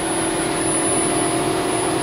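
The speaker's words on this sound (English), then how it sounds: "And you can hear the ventilator blowing." An electric cooling fan runs in the open motor compartment of a Renault Zoe Intens Q90 Z.E.40 just after driving. It gives a loud, steady whooshing whir with a faint constant hum and stays unchanged throughout, with no talking.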